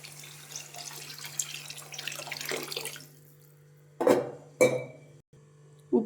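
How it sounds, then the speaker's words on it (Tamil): Water runs steadily into a pan of fish curry (meen kulambu) for a few seconds, then stops, followed by a few sharp clanks of the pan or vessel close by, with no voices. "வாங்க இப்போ தண்ணி சேர்த்துக்கலாம்."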